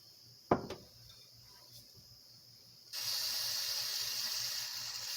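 A sharp clatter of metal parts comes first, then a steady hiss of running water sprays onto carburetor parts from a Bolens QT17 tractor, loud and continuous, close by.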